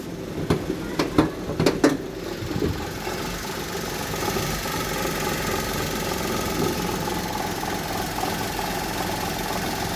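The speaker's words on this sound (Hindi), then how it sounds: "आपको दिखा देता हूँ कि इंजन कितना ज़्यादा वाइब्रेट कर रहा है" A 2014 Maruti WagonR VXI CNG engine idles with a steady rough rumble and rattling vibration, a few sharp knocks near the start, no talking.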